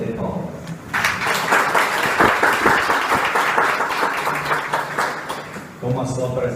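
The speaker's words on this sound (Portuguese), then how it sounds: "pode bater palmas" An audience at an evening Spiritist lecture claps for the arriving speaker, with a dense burst of applause that holds steady for several seconds and fades near the end, with some voices around it.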